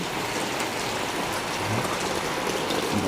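Steady rain pattering on a surface, an even hiss with scattered drops, moderately quiet and continuous throughout.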